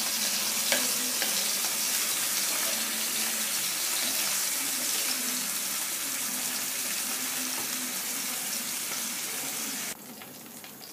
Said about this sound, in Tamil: பன்னீரை கோல்டன் ப்ரௌனாக ஃப்ரை பண்ணியாச்சு.